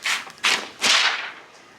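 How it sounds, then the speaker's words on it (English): A DTF transfer film is cold-peeled off a shirt in three quick, sharp ripping swipes, each a bright whooshing tear, close and moderately loud, with no talk. "Cold peeled, I always say hold down the shirt because you have to like snatch it off"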